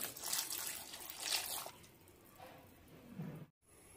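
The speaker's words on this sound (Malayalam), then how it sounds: "3 കപ്പ് വെള്ളം ഒഴിച്ച് കൊടുക്കുന്നുണ്ട്." Water pours steadily into a pot for boiling pasta, a fairly loud, close rush for about a second and a half before it fades into a quieter trickle and brief stillness.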